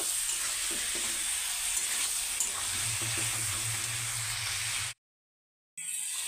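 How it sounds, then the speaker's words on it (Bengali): Broiler chicken frying in a pan with coriander powder, Assamese style with sesame, giving a loud, continuous close sizzle with a low rumbling undertone before a sudden drop to silence and a brief return. "ধনিয়া গুঁড়ো দিয়ে এটাকে আর অল্প ভাজি করব"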